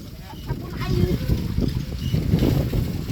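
A child bathes while water is poured and splashes in loud, close, continuous sloshes, with voices talking over the splashing.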